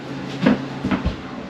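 Wooden cabinet drawers are handled while cabinets are being installed: a few close, fairly loud knocks and bumps, two or three separate hits within about a second, followed by a quiet room.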